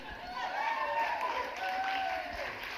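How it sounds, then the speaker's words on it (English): Audience applause at a summit panel as a speaker is introduced, a sustained wash of clapping from a moderately sized crowd, fairly distant, with a voice over it. "don't hold the applause"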